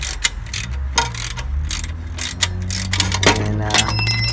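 Rapid ratchet clicks in short bursts from a wrench working an exhaust nut on a 1984 Honda Goldwing GL1200, close and metallic over a low steady hum.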